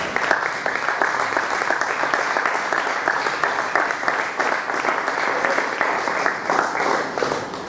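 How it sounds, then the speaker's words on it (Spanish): A church congregation gives steady, continuous applause to the Lord, a dense, even patter of many hands with little voice heard over it. "¿Cuántos le brindan un aplauso al Señor en esta hora?"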